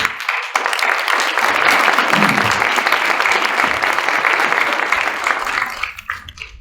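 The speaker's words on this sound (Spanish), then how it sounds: "Un aplauso, por favor." A hall audience at an international storytellers' gathering during a book fair breaks into loud, sustained applause, full and steady for about six seconds before tapering off.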